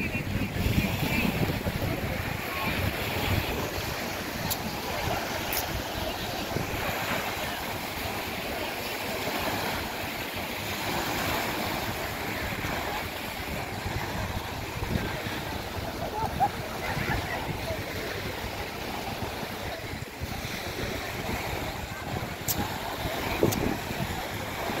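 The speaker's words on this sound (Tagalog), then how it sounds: "Lakas ng alon mga kusot, lakas ng alon." Strong sea waves at a beach in Zambales, a steady, loud wash of surf and wind rumble across the whole stretch, with a few faint clicks.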